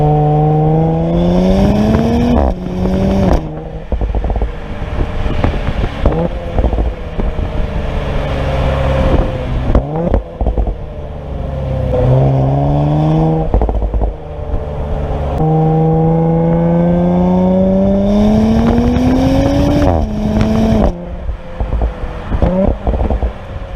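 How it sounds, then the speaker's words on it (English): A 2018 Audi S4 engine and exhaust revving repeatedly, with rising and falling tones between sharp lifts off the throttle and crackling pops on the overrun, loud and close with no talking. "Exhaust note just sounds so awesome and burbly. You get pops and crackles"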